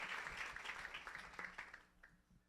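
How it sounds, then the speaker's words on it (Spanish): Faint, distant applause from a church congregation at a Sunday service, a soft wash of clapping that gradually fades away. "démosle un aplauso a nuestro Señor"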